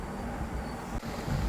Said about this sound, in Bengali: আমাদের ট্রেন তার গতিতে ছুটছে